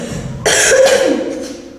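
Harsh, loud cough from someone who has been coughing badly for a month, one abrupt close burst that rings out and then fades.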